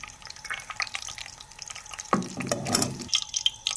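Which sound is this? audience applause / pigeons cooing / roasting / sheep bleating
roasting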